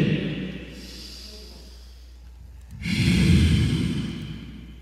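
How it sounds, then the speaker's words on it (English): Slow breathing during a core-strengthening exercise, a soft drawn-in inhale followed by a louder, fuller exhale, close to the microphone with no talking. "Inhale. Exhale."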